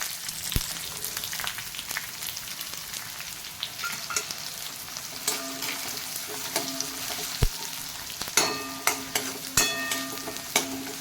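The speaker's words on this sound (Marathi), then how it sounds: "कांदा सुद्धा आपण थोडा गोल्डन ब्राउन होऊन देणार" Onion and curry leaves fry in hot oil for a spicy dried Bombay duck curry, a steady broadband sizzle with sharp clicks and scrapes of stirring that grow denser and louder in the second half.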